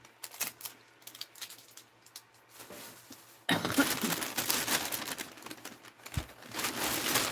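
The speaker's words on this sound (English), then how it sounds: "Tear this tape off." Packing tape ripped off a package in a cluttered room, a quiet rustle first, then a loud, sustained tearing and crinkling burst that runs for several seconds.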